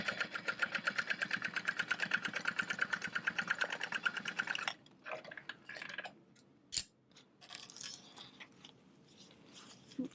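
A sewing machine stitches bag panels with a fast, even run of rhythmic clatter for several seconds, then stops, leaving quiet handling noises and a single sharp knock.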